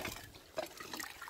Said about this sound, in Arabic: هانتوما كبية الماء والعصير